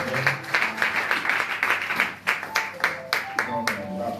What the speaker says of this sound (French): Mettons-nous à l'acclamation très fort.